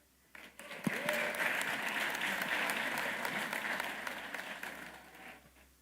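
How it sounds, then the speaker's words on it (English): An audience at a high school graduation ceremony at Thurgood Marshall Academy applauds steadily for about five seconds as a man is welcomed to the stage, the dense clapping fading slightly near the end. "Please, round of applause."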